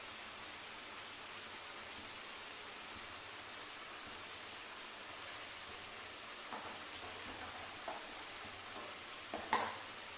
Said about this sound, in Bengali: মশলার সাথে মাংসটাকে ভালো করে কষিয়ে নেব।